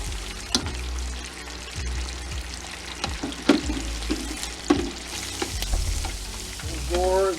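Cajun-style shrimp sizzle and crackle loudly as they deep fry in hot oil, a constant bubbling hiss broken by clanks and splashes from stirring and lifting the batch out.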